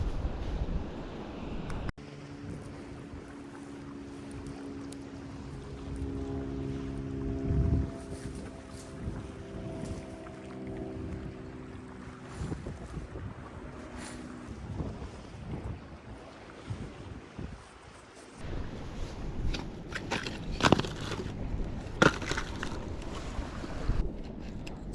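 Wind gusting across a beach campsite on a barrier island, a steady rushing and microphone buffeting with louder bursts toward the end and faint tonal hums, no talk.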